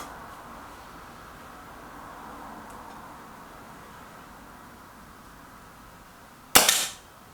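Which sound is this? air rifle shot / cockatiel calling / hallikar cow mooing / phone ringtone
air rifle shot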